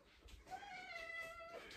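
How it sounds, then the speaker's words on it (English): A house cat gives a faint, drawn-out meow in a quiet indoor room, a soft wavering call lasting about a second. "Silly kitty."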